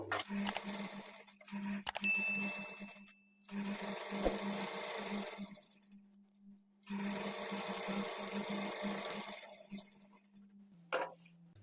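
A sewing machine top-stitches a pleated sleeve, whirring steadily in three long runs separated by brief silent pauses, close and clear. Small metallic clinks come near the start and end, and nobody speaks.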